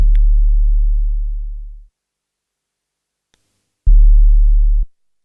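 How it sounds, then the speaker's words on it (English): A plain sine-wave kick layer synthesized in Serum, sounding as two deep, clean low tones: a long one fading out over about two seconds, then a shorter one after a gap, with nothing else playing. "I have literally just got a basic sine wave here in Serum, and it's playing on the first kick of every bar"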